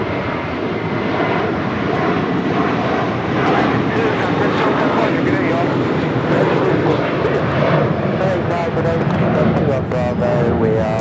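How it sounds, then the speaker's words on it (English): An American Airlines A321 departs LAX on its takeoff roll, a loud, steady jet roar that holds throughout, with radio chatter and voices over it. "That is American Airlines Flight 2 departing to JFK on an A321"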